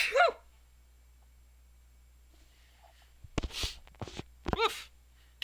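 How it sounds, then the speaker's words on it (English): One sharp sneeze bursts out, preceded by a quick inhale, then quiet, followed by a few short breathy sounds and sniffs close by. "I'm gonna sneeze."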